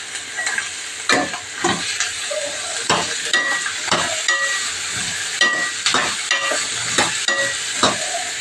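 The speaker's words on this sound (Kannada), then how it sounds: "ಈಗ ಬೀಟ್ರೂಟನ್ನು ಹಾಕ್ಕೊಳ್ತಾ ಇದ್ದೀನಿ. ಸಣ್ಣಗೆ ಕಟ್ ಮಾಡಿರುವಂತಹ ಬೀಟ್ರೂಟ್." Finely chopped beetroot sizzles in a hot pan while a spoon stirs it, giving a steady close frying hiss broken by regular scraping strokes.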